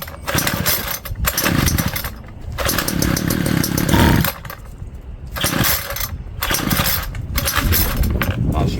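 A small engine, just fueled after a carburetor cleaning, sputters and revs in loud, uneven bursts separated by brief drops, popping and dying back between pulls.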